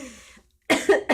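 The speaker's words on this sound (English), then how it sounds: "I'm coughing because I have a cold." Someone with a cold coughs twice in quick succession, close and fairly loud, right after a short stretch of quiet.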